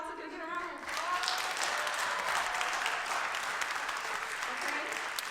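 An audience at a storytelling event claps for its speakers. A brief voice is followed by a full burst of dense, sustained applause that stays loud and even to the end.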